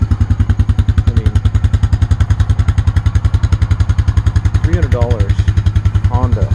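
A 2001 Honda Rancher ATV engine runs at a steady idle just after starting, its loud even rapid pulses continuing throughout while someone talks over it at moments.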